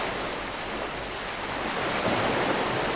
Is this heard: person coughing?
no